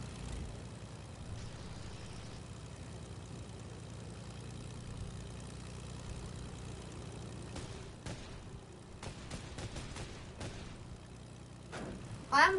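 Steady low propeller-plane engine drone from a video game, a continuous idling hum that holds throughout with a few brief clicks and a louder burst right at the end.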